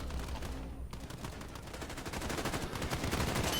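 Gunfire and explosions from the Ratchet and Clank video game: rapid, rattling bursts of shots and blasts played fairly quietly, growing denser and louder toward the end.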